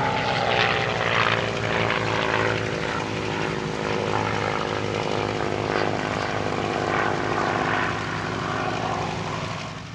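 A P-47 fighter with a Pratt & Whitney R-2800 radial engine flies past at an airshow, its propeller drone loud and steady for the whole stretch, with a slow swell and fade.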